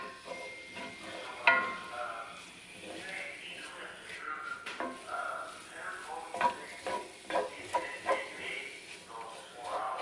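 Cauliflower, eggs and low-sodium soy sauce cooking in a pan, with a quiet background sizzle and irregular scraping and clicking strokes as a utensil stirs the mixture, close up.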